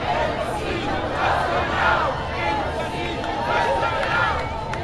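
A large crowd at a San Francisco protest chants together outdoors, voices merging into a continuous, loud roar with rhythmic swells of shouting.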